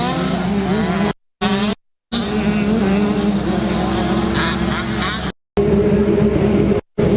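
Several 65cc motocross bikes racing at a track: a dense, continuous buzzing engine drone with shifting pitch, broken by brief gaps, with a commentator talking over it.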